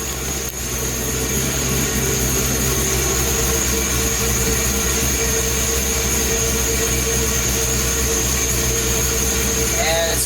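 An LS-swapped Chevrolet C10 engine with a Holley Terminator X setup idles steadily as a constant low drone with a faint whine running throughout, and someone talks briefly over it.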